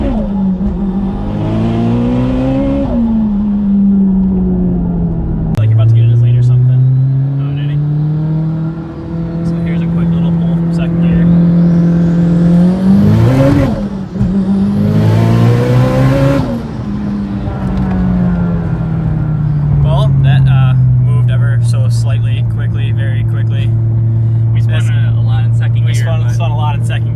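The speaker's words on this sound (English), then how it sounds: "So here's a quick little pull from second gear." An 840 hp Mitsubishi Evo X accelerates hard in second gear. The close, loud engine note climbs with rising revs and breaks into sharp shift transitions, and bursts of turbo whoosh and chatter follow.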